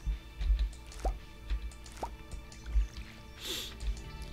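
Crops are watered with a watering can in the Stardew Valley video game: soft, quiet drip and splash effects land every second or so, each a brief liquid plop over faint background.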